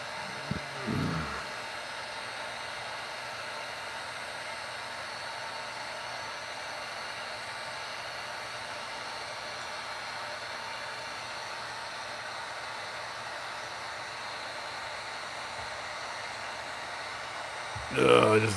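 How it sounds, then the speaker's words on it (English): A heat gun blows steadily and continuously for the full stretch while being used on a Horde apprentice Skeletor figure, with a hiss close to the mic and brief handling bumps at the start and end. "Now normally I would use the heat gun in my hand"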